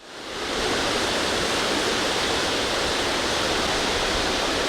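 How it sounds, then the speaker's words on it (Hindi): Floodwater of the Indus River rushing through Guddu Barrage in Sindh: a dense, steady roar of churning water that swells in and then holds constant and loud throughout, with no voices. "गुड्डू बैराज पर ऊंचे दर्जे का सैलाब है।"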